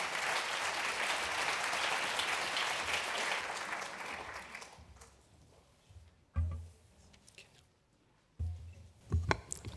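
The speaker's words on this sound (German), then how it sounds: "Und Applaus." An audience at a lecture at the 14th Armutskonferenz, a poverty conference, gives a lively round of applause that fades out after about five seconds. A few faint knocks and rustles follow.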